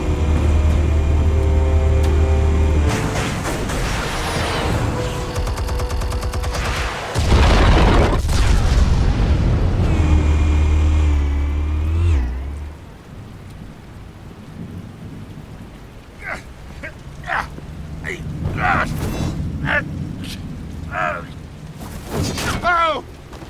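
Explosives detonating in Batman: The Telltale Series, a heavy rumbling blast and roaring debris filling the first twelve seconds, then quieter crackling impacts and scattered sharp knocks trailing off.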